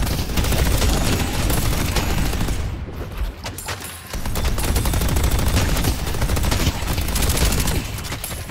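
Automated turrets in the game Deadlock open up in sustained, dense bursts of rapid gunfire, loud and close, with a brief lull midway before the clatter resumes.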